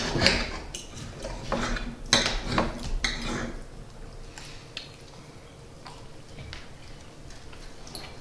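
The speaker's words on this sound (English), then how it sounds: "I'm just using a regular old butter knife" A butter knife cutting through tender prime rib beef roast on a plate, several quick clinks and scrapes of metal on the plate, then quieter.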